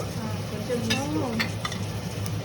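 Mint is stirred into mutton biryani frying in a pot, with a close steady sizzle and a few scraping strokes of a spoon against the vessel, with no voices.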